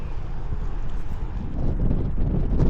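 Wind gusts buffet a microphone outdoors on a sunny day, a loud, continuous low rumbling roar that swells in the final second and runs without any talk.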